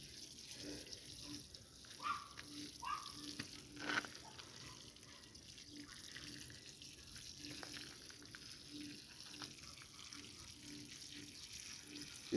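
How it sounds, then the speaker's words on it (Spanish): Water poured over the soil of a freshly transplanted ahuehuete bonsai, a soft continuous trickle with a few louder splashes early on, faint and steady throughout. "Voy por el agua para regarlo y vemos cómo se va humedeciendo poco a poco."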